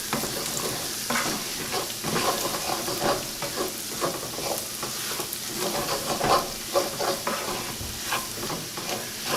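Crumbled sausage in a hot pan is stirred as a third of a cup of all-purpose flour is mixed in for gravy. Continuous close sizzling carries repeated scraping strokes throughout.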